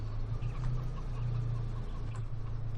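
Chickens cluck softly in Farming Simulator 2013, their short calls riding over a steady low engine drone.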